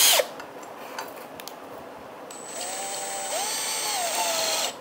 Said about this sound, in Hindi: ड्रिल में इसको पकड़ के देखता हूँ।